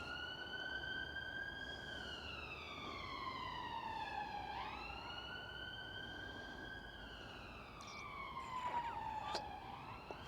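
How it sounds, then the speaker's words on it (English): Wailing emergency sirens from an animated movie scene rise and fall in long sweeping cycles, several overlapping tones moderately loud against a steady background rumble. "sirens."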